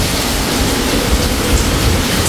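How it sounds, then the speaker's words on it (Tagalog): Heavy rain pours outside a house near a baywalk, a dense, loud, unbroken roar of falling water with no other sounds standing out. "lakas ng ulan"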